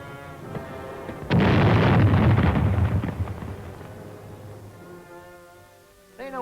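A heavy battlefield explosion from a war film hits abruptly, a loud close blast that swells into a long rumbling roar and slowly fades over several seconds, with a faint tonal sound re-emerging at the end.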